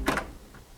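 A door opens in the horror game Scratches, heard as a short creaking clunk at the start, then a faint trailing scrape, with no voices.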